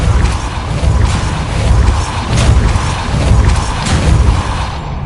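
Casting the Depulso repelling spell in the Hogwarts Legacy video game gives loud, rumbling bursts of force with heavy low thuds, swelling and fading in waves over a continuous magical roar.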